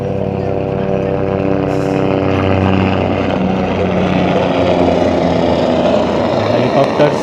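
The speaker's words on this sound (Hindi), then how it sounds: "हेलीकॉप्टर्स" A helicopter flies overhead above a mountain valley on the route to Kedarnath, its loud, steady engine drone carrying throughout.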